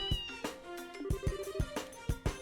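Antoine the cat from the video game Trails in the Sky FC meows several times in quick succession over soft background game music, each meow short and clear.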